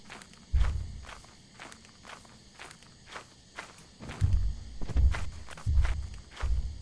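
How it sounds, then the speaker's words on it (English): Heavy, booming footsteps of a large creature in Lethal Company thud at an irregular walking pace, growing louder and closer toward the end over a faint ambient hiss. "I'm hearing very large footsteps."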